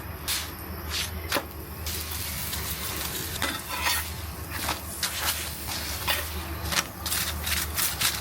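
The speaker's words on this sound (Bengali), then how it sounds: "ঘি পরোটা বানাই অল্প অল্প করে ঘি দিয়ে সুন্দর করে ভাজি" Paratha frying in a little ghee on a pan, a steady sizzle overlaid by repeated scraping and pressing strokes of a spatula, close and moderately loud, with no talking.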